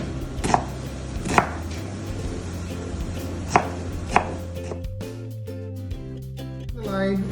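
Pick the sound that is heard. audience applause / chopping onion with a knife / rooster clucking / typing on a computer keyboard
chopping onion with a knife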